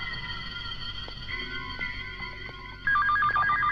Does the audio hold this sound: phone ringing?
yes